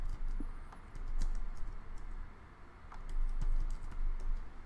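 Quiet, irregular clicks of a computer keyboard being typed on at a desk, soft scattered keystrokes over a low room hum.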